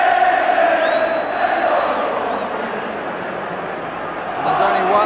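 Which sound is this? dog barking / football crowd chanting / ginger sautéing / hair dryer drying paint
football crowd chanting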